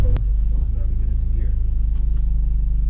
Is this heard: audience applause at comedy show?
no